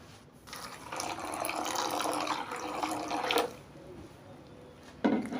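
Water pours steadily into a cooking pot holding Wheatena wheat cereal and a pinch of salt, a soft splashing stream lasting a few seconds before cutting off, followed by a brief clink.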